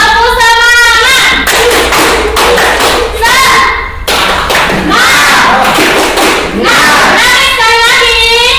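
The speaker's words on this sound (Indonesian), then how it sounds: "Kita tepuk semangat." A class of students does the rhythmic Indonesian 'tepuk semangat' clapping chant at a high school in Maros, with loud, near, patterned claps in quick bursts and voices shouting along throughout.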